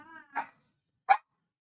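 Dogs give a brief whine followed by two sharp barks close by, with a short pause between them and silence after.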